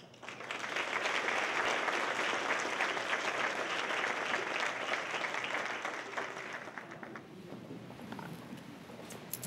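An audience breaks into loud, sustained applause welcoming Dr. Shirley Davis at a Workforce 2030 event, a dense wash of clapping that holds steady for several seconds before thinning out toward the end.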